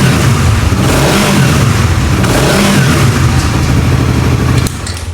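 A 2024 Raider 150 FI Sports Edition motorcycle engine revs loud and close, climbing to around 4,000 RPM. It holds a steady high drone for about four and a half seconds, then the note drops off sharply near the end.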